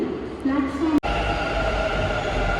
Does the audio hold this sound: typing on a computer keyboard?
no